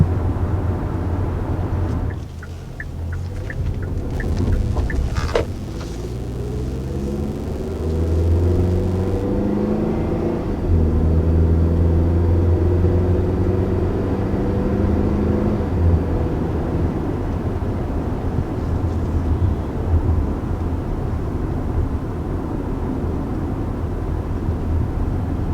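A 2020 Kia Sportage accelerates with a moderate, rising engine hum that sits under steady road and cabin rumble, fading into a smooth cruise.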